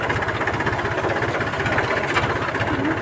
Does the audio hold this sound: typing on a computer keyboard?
no